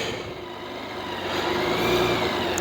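A 2023 BMW K1600B motorcycle engine hums while riding, a steady mid-pitched drone that swells slightly as it pulls, mixed with wind rush, no speech.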